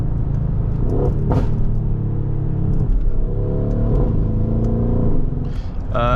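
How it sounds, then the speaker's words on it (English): A Mercedes-AMG GLE 63 S twin-turbo V8 engine rumbles steadily up close, rising and falling in deep revs, with a brief sharper burst near the end. "520 horsepower, I believe, with a twin turbo V8."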